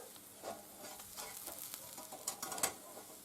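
Steady, soft sizzling of a thin layer of shashlik meat frying quickly in a pan, with faint crackles and a few brief pops growing slightly louder toward the end.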